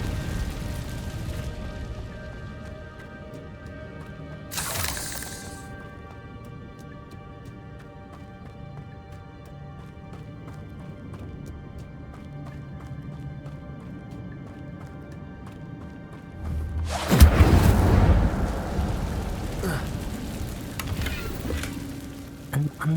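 A burst of Incendio fire spell in the video game Hogwarts Legacy, cast inside a cave: a sudden loud roaring whoosh of flame that flares up and crackles for a few seconds over a quiet ambient hum.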